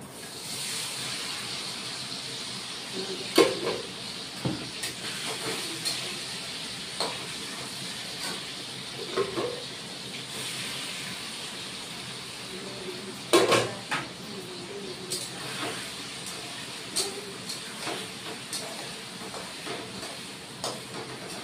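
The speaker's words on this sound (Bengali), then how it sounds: "এখন পনিরগুলি ভেজে নিলাম।" Paneer cubes frying in hot oil in a home kitchen, giving a steady soft hiss with scattered clinks of a utensil against the pan.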